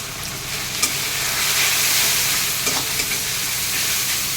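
Malabar spinach curry with cumin powder, chili powder and turmeric sizzles and crackles steadily in a hot pan while being stirred, a loud, continuous frying hiss with occasional sharper scrapes and pops, no talking.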